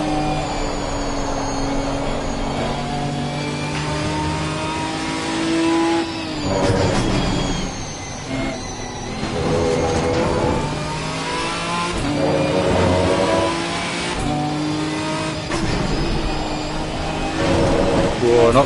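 A race car in Assetto Corsa Competizione powers round the Kyalami circuit, its engine roaring loud and close. The revs climb in long pulls and drop sharply at gear changes, then build again.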